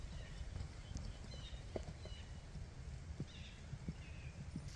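Slow, steady clip-clop of a Tennessee Walking Horse's hooves walking, faint against quiet outdoor background noise.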